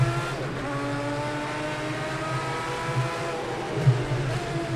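A Group C race car downshifts at Zolder in the game Project CARS 2, its engine a steady, loud, buzzing drone with a brief bump in pitch near the end.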